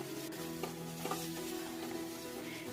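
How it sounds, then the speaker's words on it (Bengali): Fried potatoes being stirred into a nonveg-style paneer curry in a pan, with a steady low sizzle and a few soft scraping strokes of the spoon, close and alone. "এখন আবারও ভালো করে আমি নাড়াচাড়া করে মিক্স করে নেব।"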